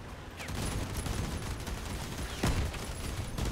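A video game autocannon fires in a dense, rapid sustained burst, loud and close, with one sharper crack standing out near the end; no talk.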